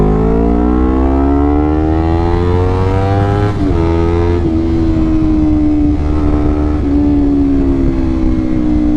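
A 2017-built Honda CBR250RR twin motorcycle engine screaming at high RPM, a loud continuous whine that rises, dips sharply, then holds a steady high pitch, close and with no speech.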